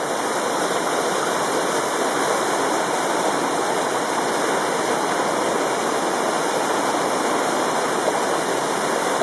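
Springtime waterfall in full flow, a loud, steady broadband roar of crashing water that holds constant and close throughout with no letup.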